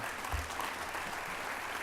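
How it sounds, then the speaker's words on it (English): Steady, fairly faint applause from a conference plenary audience, a continuous even patter of many hands heard at some distance. "Give yourselves a round of applause, the JCCs North America."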